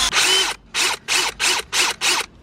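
Broken vacuum brush attachment whirring in short bursts, its centerpiece spinning freely without turning the brush, six sharp high-pitched motor pulses with brief silent gaps between them, close and loud with no talking.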